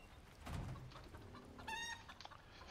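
Chickens cluck in a farm setting within the survival video game Icarus, a few soft, fairly distant clucks and a brief higher call over a low ambient background.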